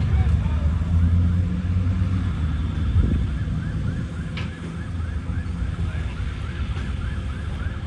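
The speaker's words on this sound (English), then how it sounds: "sirens in the distance, firefighters finally arrived" A fire engine siren wails up and down in the distance, faint beneath a steady low rumble of traffic.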